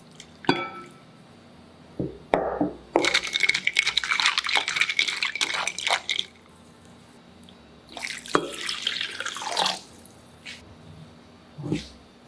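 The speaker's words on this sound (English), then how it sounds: "Add a bit of salt and soak in warm water and let stand for 30 minutes." Warm water splashes over dried ear mushrooms in two bursts of pouring and trickling, separated by quiet gaps, with a few brief knocks and drips around them.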